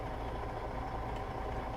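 A custom truck engine in a driving video game idles with a low, steady, even rumble at a quiet level, and nobody speaks over it.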